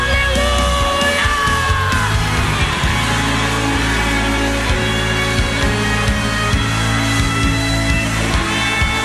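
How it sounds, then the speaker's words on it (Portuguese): A church congregation shouts hallelujah in victory, loud sustained yelling and whooping from a crowd filling the room, with tonal voices and a steady low rumble underneath. "dê um brado de vitória, solte um grito de aleluia"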